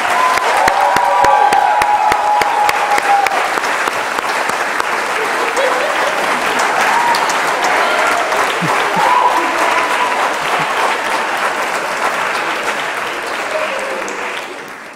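A large graduation crowd at Vanderbilt gives loud, sustained applause, dense clapping with occasional cheers and brief voices, gradually easing off near the end.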